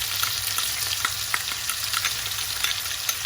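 Green seasoning going into chopped turkey sizzling hard in a pot for lentil stew, a loud, steady frying hiss with light crackles and stirring noises throughout, no voices.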